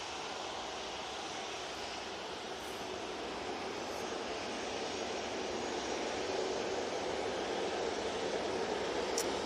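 A TUI airliner at Manchester Airport passing with a steady, fairly faint jet roar that holds evenly throughout and swells slightly toward the end.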